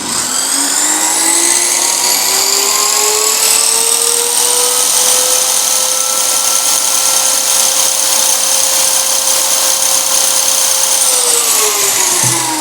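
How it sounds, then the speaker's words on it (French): A 1200-watt circular saw spins up with a rising motor whine, holding a loud, steady high-pitched scream before winding down near the end. "cette scie circulaire à 1200 watts, donc on va voir, je la démarre"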